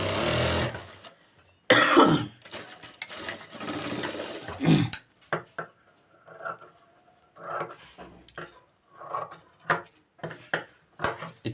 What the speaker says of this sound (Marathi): शिलाई मारून घ्यायची.